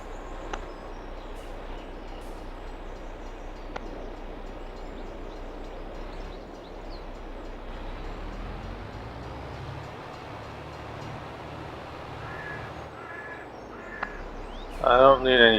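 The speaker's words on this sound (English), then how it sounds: "Oh, guess we gotta wait for the train" A train rolls past in Farming Simulator 22, a steady low rumble and rattle of wagons holding at an even level for several seconds, with crow-like caws and a brief louder burst near the end.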